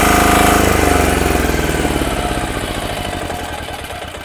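A Yanmar L100 electric-start engine drives a 200-bar belt-drive pressure washer, running loud and close with a rapid, rhythmic thrum that gradually fades as the engine winds down.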